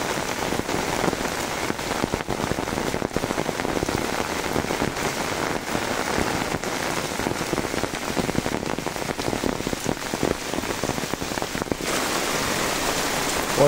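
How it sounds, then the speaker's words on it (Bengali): Heavy rain pours steadily onto flooded paddy fields in Kaharol, Dinajpur, a dense, continuous close-up hiss of drops hitting water that holds even for the whole stretch, with no voices. "পর্যাপ্ত পরিমাণ বৃষ্টি হচ্ছে আজকে।"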